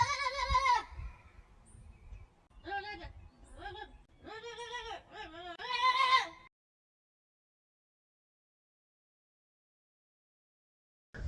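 A Nigerian Dwarf goat in heat screams loudly and repeatedly in a backyard, harsh bleating calls in close bursts over about six seconds, then silence.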